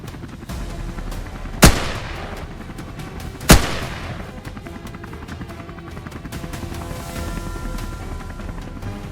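Two loud, sharp rifle gunshots about two seconds apart during a wild boar hunt outdoors, each a sudden crack with a short decaying tail over steady background noise and no speech.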